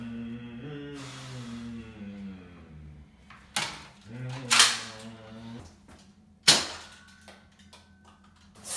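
A sharp gunshot-like crack lands amid talk in a comedy sketch set on a toilet, with a few other loud sudden bangs following over the next few seconds.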